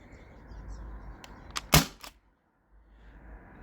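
A modded T4E HDB68 CO2 shotgun fires an aluminum ball in one sharp, loud report, followed by a short burst of mechanical clatter and then quiet room noise.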